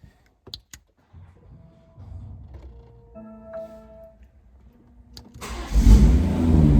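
A BMW M140i turns over and fires up after some clicks and button beeps, the engine catching near the end and settling into a loud, close idle.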